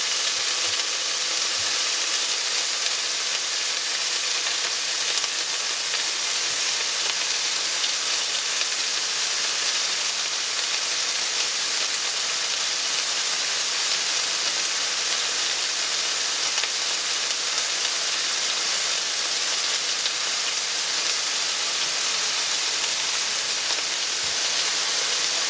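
Steak and potato pie filling sizzles as it browns in a pan, a dense, even hiss that stays loud and unbroken throughout, close and with no talking.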